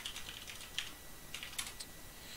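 Quick, light keystrokes as a password is entered on a computer keyboard, a short burst of soft clicks with no talking.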